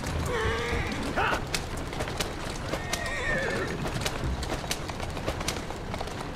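Horse whinnying and neighing over brisk hooves clopping in Assassin's Creed Syndicate, set in Victorian London; the neighs rise and fall twice while steady hoof beats and street ambience run underneath, fairly close and continuous.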